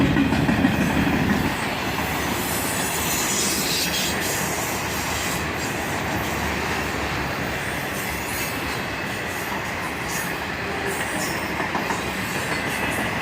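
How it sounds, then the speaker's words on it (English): A freight train carrying a new Union Pacific auto rack rolls steadily past close by, with continuous wheel rumble, clickety-clack and occasional squealing wheels throughout, and no talk. "And a sparkling, shiny new Union Pacific auto rack."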